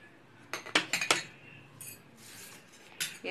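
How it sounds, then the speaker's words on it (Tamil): A spoon stirs pani poori water mixed with jaggery, amchur powder and chaat masala, striking the vessel in a quick run of bright clinks, then a pause and a couple more, close and fairly quiet. "எல்லாம் போட்டு நல்லா கலக்கிக்கலாம்."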